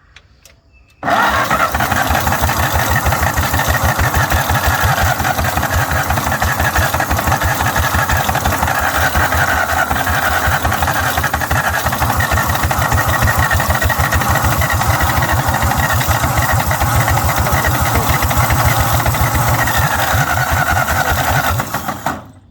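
A 1953 Ferguson TO-30 tractor engine runs steadily and loudly after a brief start, its rapid even firing pulses continuing alone without pause for about twenty seconds before cutting off.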